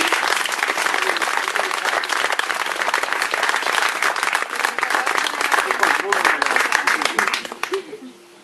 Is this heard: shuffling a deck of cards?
no